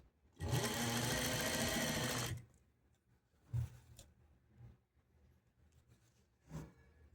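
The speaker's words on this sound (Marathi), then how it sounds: "हे बघा व्यवस्थित आपल्याला शिलाई मारून घ्यायची" A sewing machine runs one loud, close burst of about two seconds stitching blouse piping, followed by quieter scattered clicks and handling knocks.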